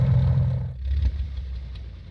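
TB-30 aircraft engine shutting down in Microsoft Flight Simulator 2020, a low rumbling drone that cuts off abruptly partway through, leaving a fading low hum and quiet rattle.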